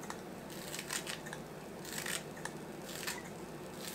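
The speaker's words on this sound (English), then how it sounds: "take some fresh green onions and snip over the top" Scissors snipping fresh green onions over shrimp fried rice, a quick run of faint, crisp cuts in uneven rhythm, close and quiet with no talking.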